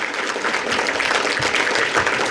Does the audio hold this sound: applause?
yes